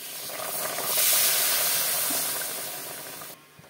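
Hot water poured into a hot pan of frying peas, potatoes and spices for a lentil dish sets off a loud steaming hiss that swells and then fades over a few seconds before cutting off.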